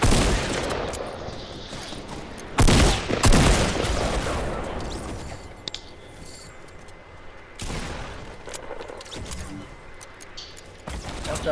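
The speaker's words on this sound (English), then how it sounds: "They're firing rockets at y'all." Rockets firing in an online squad-battle video game: loud explosive bursts and booming blasts, sharpest around the middle and again later, over a rumbling noisy background with faint voices.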